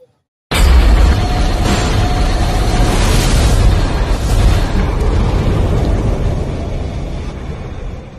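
A Honda TMX 125 motorcycle engine, its ignition coil suspected, started by kickstarter, runs loud and rough right at the mic with irregular bursts and misfiring stumbles throughout, no talk.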